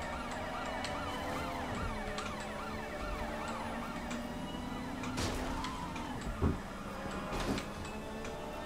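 Police car siren wailing in the video game Watch Dogs Legion during a pursuit, a rising and falling tone that runs steadily through the whole stretch amid game noise, with a couple of short thumps near the end.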